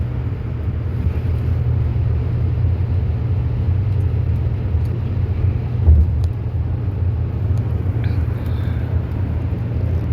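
A car drives steadily through low mountain foothills, with a constant low road and engine rumble and wind noise heard from inside the cabin and no talking.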